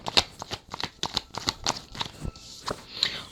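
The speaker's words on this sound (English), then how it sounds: "let's pull some cards and clarify some of the emotions that we're seeing here" Tarot cards are shuffled by hand in quick riffling bursts, a close, crisp papery flutter repeating in uneven rhythm with no talk.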